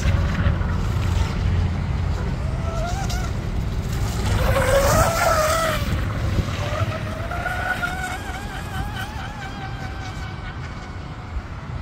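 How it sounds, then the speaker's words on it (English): A small RC powerboat engine whines at high speed, its pitch rising and falling as it passes and turns, with a steady buzzing drone throughout. "The boat handles a little bit funny when it's really getting up to speed."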